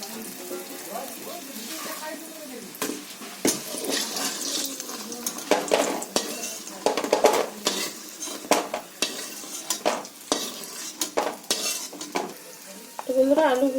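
Lentil dumplings (bori) fry in hot oil in a wok, giving a steady soft sizzle broken by scraping stirs and sharp metallic clinks of a spatula against the pan; no voices.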